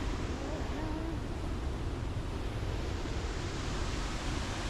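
Wapta Falls, a waterfall in the Canadian Rockies, heard from a distance as a steady, even broadband roar with no breaks and no voices.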